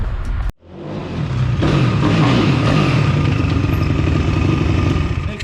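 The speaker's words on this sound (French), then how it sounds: "C'est un avion déjà cette moto." A kitted mini motorcycle engine runs loud and close, a steady buzzing drone that settles into a rough, continuous running note after a brief cut near the start.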